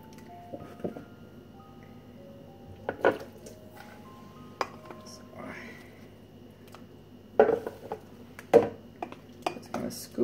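A ladle scraping and clinking against a pot while hot sweet potato and carrot soup is scooped out, scattered metallic knocks and taps separated by quiet pauses, close and clear.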